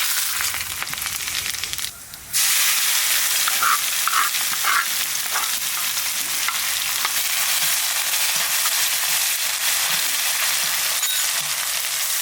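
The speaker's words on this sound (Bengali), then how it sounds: "ফোড়নে দেবো শুকানো লঙ্কা," Dried red chillies, bay leaf and cumin seeds sizzle in hot oil for a duck curry, a dense, steady crackling fry with brief spits and a short lull near the start, close and loud with no talk.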